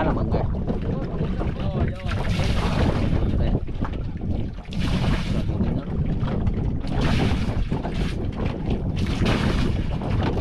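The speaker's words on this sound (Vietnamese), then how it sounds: "Gió hơi nhiều cho nên nổi sóng." Strong wind roars over choppy floodwater around a small boat, with heavy wind buffeting on the microphone and waves slapping steadily throughout.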